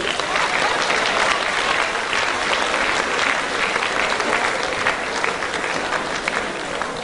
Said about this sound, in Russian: Аплодисменты, господа